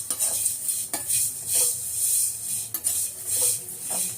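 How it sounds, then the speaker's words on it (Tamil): Rock salt roasts dry in a pan while being stirred, giving a steady gritty scraping and rattling with a bright hiss, broken by a few sharper clinks of the utensil against the metal. "இது வரும்போது உப்பு போட்டுக்கணும், கல் உப்பு. உப்பு நல்லா வறுத்துக்கலாம்."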